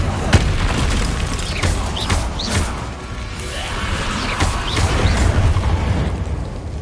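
Incendio fire spells cast in Hogwarts Legacy, a dense run of booming, whooshing bursts layered over continuous game sound effects throughout, loud and close.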